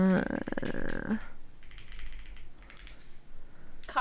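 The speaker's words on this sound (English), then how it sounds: "Typing." Typing on a computer keyboard comes through as a quick run of light, irregular clicks and taps, near and moderately loud, with brief pauses between bursts.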